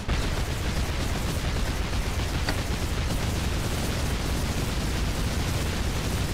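Continuous roaring explosions from the video game Shantae and the Pirate's Curse, a dense, loud wall of booming blasts that carries on without pause.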